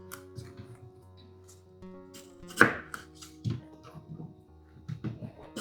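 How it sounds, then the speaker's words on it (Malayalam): A knife cuts into a fleshy aloe vera leaf with a few crisp, separate chops and snaps, heard close up against quiet background noise. "ഞാൻ അലുവേറ പ്ലാന്റ് എടുത്തിട്ടുണ്ട്. നമുക്കിതിൻ്റെ ഈ ഒരു ഭാഗം കട്ട് ചെയ്യാം."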